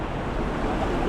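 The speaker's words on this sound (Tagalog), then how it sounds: "Bigla-bigla na lumalaki yung tubig ko, nakakatakot." Rough ocean waves surging steadily at a seaside fishing spot, a continuous loud wash of surf and wind with no pause, close to the microphone.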